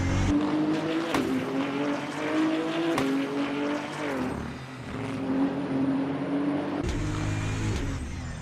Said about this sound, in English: Listen to that V6 engine roar.